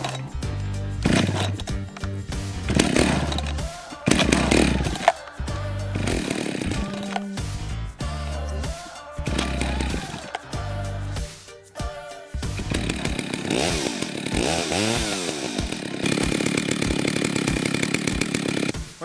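Husqvarna chainsaw running close by, with its engine revving up and dropping back in repeated bursts, then holding a steadier, buzzing high pitch near the end, loud and alone without talk.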